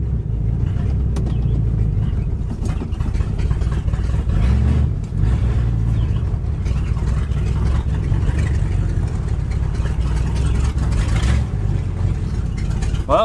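A Ford Galaxie parked for five years fires up and keeps running with a loud, rough, continuous engine rumble that rises and falls a little, heard up close.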